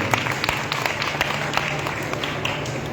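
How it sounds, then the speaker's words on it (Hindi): A crowd at a temple kirtan gives applause for the dholak player, with a dense wash of clapping that runs steadily through the short moment at moderate loudness. "एक बार जोरदार तालियां हमारे ढोलक वाले भैया के लिए"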